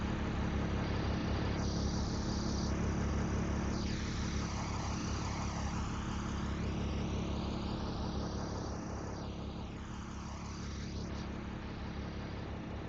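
An International DT-466E diesel engine idles steadily in an Amtran school bus, a constant low rumble that stays close and even for the whole stretch, with no talking over it.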